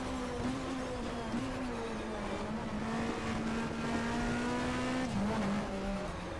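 A touring car in the BTCC 1997 racing video game runs at full throttle in fifth gear, its engine droning as a steady, loud tone that climbs slowly before a brief dip near the end.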